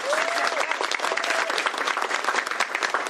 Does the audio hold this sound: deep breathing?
no